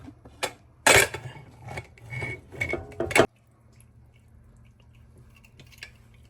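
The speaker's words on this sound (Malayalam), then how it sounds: "ഇനി കുക്കർ തുറന്ന് നോക്കാം." Pressure cooker being opened while making mutton biryani: several loud metallic clanks and scrapes of the lid and pot, close by, then a quiet stretch with faint clicks.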